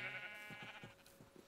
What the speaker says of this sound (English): These lazy sheep.